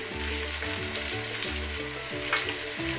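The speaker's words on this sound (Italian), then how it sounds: "L'olio che è arrivato a temperatura andiamo a soffriggere leggermente l'aglio prima" Garlic lightly frying in hot olive oil in a pan, a steady close hiss of sizzling running through the whole stretch, with melodic background music playing over it.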